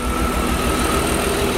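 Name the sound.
smoky BMW E36 M3 S52 engine running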